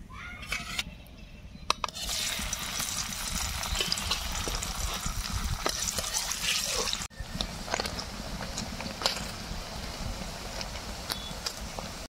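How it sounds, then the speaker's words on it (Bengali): Paneer pieces frying in white oil in a village-style kitchen, a steady close sizzle and crackle that holds throughout, with a brief dip midway, and no talking. "সাদা তেল দিয়ে পনিরগুলোকে ভেজে নেব।"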